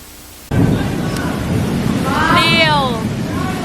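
A thunder-strike sound effect bursts in suddenly and loudly after a brief quiet moment, then rolls on as a sustained rumble with higher sweeping tones layered over it.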